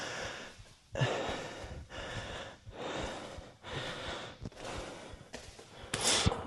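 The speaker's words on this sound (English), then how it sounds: "Compose that breathing." Heavy, labored breathing during a rest break in a kickboxing heavy bag workout, with repeated deep panting breaths and gasps at a steady rhythm, close and fairly loud.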